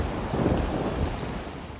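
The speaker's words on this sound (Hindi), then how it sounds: "इस बीच बरसात हो गई।" Steady, dense rainfall hisses throughout, with a low thunder rumble swelling underneath, continuous and fairly loud with no voices.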